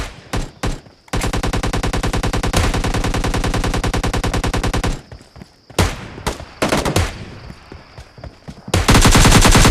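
Automatic gunfire in the PUBG Lite video game rattles in long, loud, rapid bursts, with a few single shots and short pauses between them, all close and harsh.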